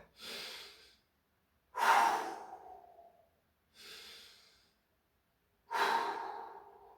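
Heavy breaths during a workout: four separate exhales, each about a second long, the second and fourth louder and sharper, spaced by short pauses, close and alone.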